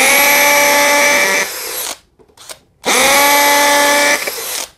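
A DeWalt DCD805 cordless hammer drill in hammer mode at speed 2, fitted with a long 10 mm bit, bores into lightweight hebel brick. Two loud, close, sustained whining bursts are separated by a short gap with faint clatter.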